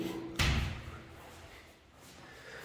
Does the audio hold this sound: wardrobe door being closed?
yes